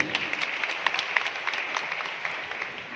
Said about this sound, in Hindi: एक बार इस चीज के लिए सारे बच्चे अपनी तालियां बजाएं अपने लिए